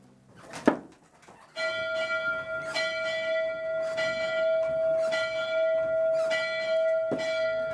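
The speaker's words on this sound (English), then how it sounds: "As she came to Winnipeg, ringing her bell, it would sound much like this." A large steam locomotive bell clangs repeatedly in a slow, steady rhythm, each strike ringing on with a sustained metallic tone, loud and fairly close.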